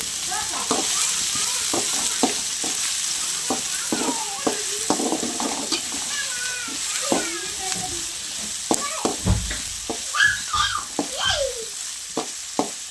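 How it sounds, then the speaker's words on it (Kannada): Onions frying in oil in a pan on a low flame with mustard seeds, cumin and poppy seeds: a steady close sizzle broken by repeated clinks and scrapes of a spoon stirring. "ಫ್ರೈ ಮಾಡ್ಕೊಳ್ತಾ ಇದ್ದೀನಿ."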